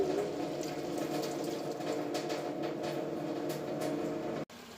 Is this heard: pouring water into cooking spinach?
yes